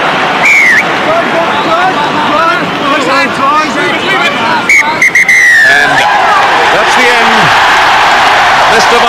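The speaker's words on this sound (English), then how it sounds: "Mr. Marshall, the Australian referee, blows the final whistle" A referee blows the final whistle at a 1999 Rugby World Cup match between New Zealand and England, with two high, falling whistle blasts cutting through a loud, constant stadium crowd roar and commentary.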